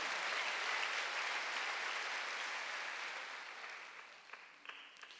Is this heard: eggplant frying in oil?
no